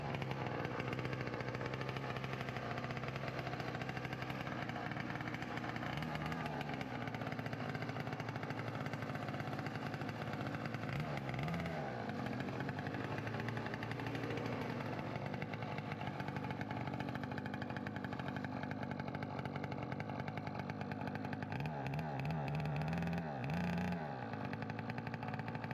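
A tiny motorbike engine runs steadily and loudly throughout, with a few dips and wobbles in its note along the way, before it cuts out as if stalling.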